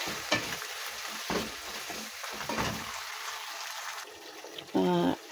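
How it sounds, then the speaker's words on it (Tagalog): Menudo being stirred in a pan after tomato sauce is added, with scraping strokes over a soft sizzle, repeated several times, then a short louder burst near the end, and a voice speaks briefly between strokes. "Mix na natin mga guys."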